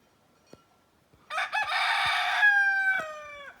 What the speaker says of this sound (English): Lots of roosters